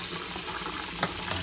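Tap water running steadily into a sink while a Commodore PET CBM 2001-16 circuit board is rinsed, a loud continuous hiss with a couple of brief splashes near the end.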